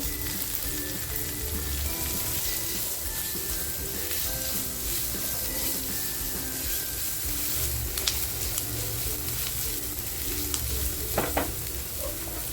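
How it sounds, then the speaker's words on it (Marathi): Onion frying in oil in a pan, a continuous dense sizzle and crackle held steady throughout, with a few brief stirring clatters near the end and no talking. "ह्याच्यात थोडंसं तेल टाकते कांदा टाकते"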